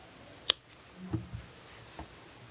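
Scissors snip crochet yarn after the final row of a knit-look beanie, giving a couple of quiet, close cuts and light clicks in an otherwise hushed room.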